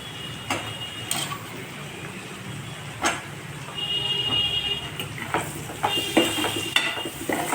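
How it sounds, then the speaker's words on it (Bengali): Eggplant pieces frying in a cooked spice paste, giving a steady close sizzle broken by occasional spatula scrapes and light clinks against the pan, with stirring growing busier toward the end. "আমি একটু বেগুনগুলো ভেজে নিচ্ছি"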